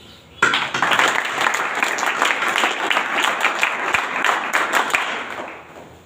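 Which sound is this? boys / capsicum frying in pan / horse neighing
boys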